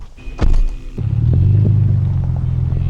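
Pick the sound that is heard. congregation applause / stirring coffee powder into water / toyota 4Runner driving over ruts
toyota 4Runner driving over ruts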